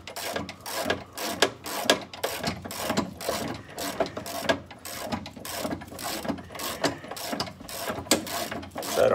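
A ratchet wrench works a rear differential bolt on an M151A2 military jeep, clicking in quick repeated bursts of sharp metallic ticks with short pauses between strokes, close and clear, with no talking.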